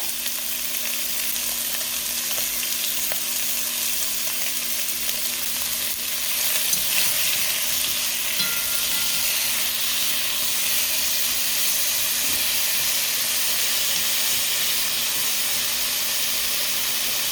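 Pork belly seasoned with salt and sugar fries in a pan over medium heat, with a dense, unbroken hiss and sizzle and faint stirring underneath. The sound is close and steady, with no voices.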